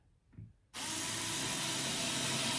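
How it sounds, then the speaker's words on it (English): A power drill driving screws into a wall while a curtain rod bracket is being mounted, heard as a faint tap followed by a sudden loud, steady whirring drone that continues close up to the end. "Drill it in, leaving quite a bit."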